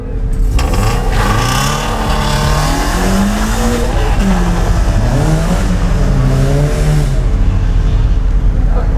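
A rear-wheel-drive hillclimb car revs loudly up close, its engine note rising and falling through repeated gear changes, with tyres squealing briefly.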